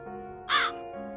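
Crow giving a single short, harsh caw close by, heard over a soft sustained musical background in a children's story.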